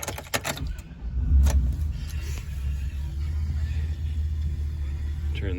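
A 2001 Chevrolet Silverado 2500 4x4 with a 6.0L LQ4 V8 starts with a few clicks and keys rattling, then settles into a steady, low, rumbling idle close by.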